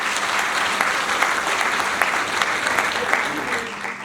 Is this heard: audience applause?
yes